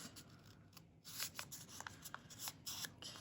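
Paper is folded in half by hand for a junk-journal craft, giving quiet, close crinkling and soft creasing rustles in a few short bursts.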